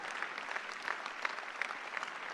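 A benefit-concert audience gives a performer dense, steady applause, heard from a distance at low level and with no voices over it.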